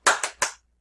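Three quick, sharp hand claps ring out close and loud in an uneven rhythm, the first two close together and the third just after, then silence.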